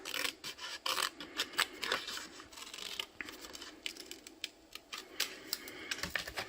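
Scissors cutting out a 3.5-inch paper square for a candy box craft: quiet, uneven crisp snips and rustling of paper in quick irregular bursts, close and alone.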